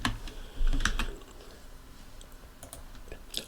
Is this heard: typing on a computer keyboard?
yes